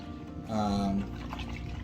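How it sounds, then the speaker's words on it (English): A bubble bar broken up under running bath water, a short burst of pouring and splashing liquid with a brief bubbly gurgle, close and moderately loud, then settling into a quieter wash. "Just kind of break it up, and it just creates like a bubble bath in the water."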